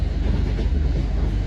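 A Northern Class 323 commuter train runs with a loud, continuous low rumble and steady rolling noise heard from on board, without talk.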